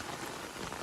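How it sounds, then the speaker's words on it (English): Heavy rain pours down without thunder in a dense, steady wash of noise that stays loud and unbroken for a brief moment. "So this was some heavy rain"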